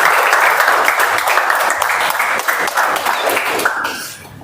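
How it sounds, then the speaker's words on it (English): Audience applause welcoming a speaker onto the stage at a Toastmasters club meeting: steady, dense clapping from a room full of people that holds level for several seconds, then thins out and fades near the end. "Now, with a big round of applause, let's welcome on stage DTM Mazahir."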